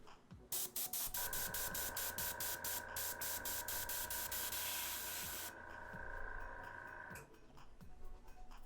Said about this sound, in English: it's time to airbrush